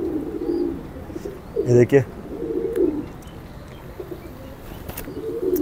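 Pigeons coo in soft, low, rounded calls near their cage, repeating through the stretch with a brief louder burst midway, while someone speaks over them.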